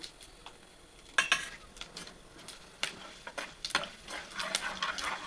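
Cumin, mustard seeds, urad dal and chana dal temper in hot oil for an Andhra-style bitter gourd fry, with a faint sizzle broken by scattered crackles and pops close by.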